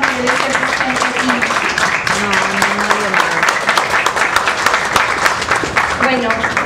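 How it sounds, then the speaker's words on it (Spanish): An audience at a literary talk applauds in a sustained burst of clapping, with a voice speaking over it at times. "Le brindamos un cariñoso aplauso"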